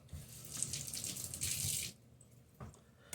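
Water runs from a tap for a rinse in a home kitchen, a soft, steady splashing stream that stops after about two seconds, followed by a brief faint clatter.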